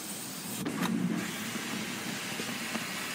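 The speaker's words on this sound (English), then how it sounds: "the electric blind and the sunroof does open" The electric panoramic sunroof on a Nissan X-Trail 1.6 DiG-T N-Connecta sliding open, a soft motor whir with a light clunk early on, faint against steady cabin hiss.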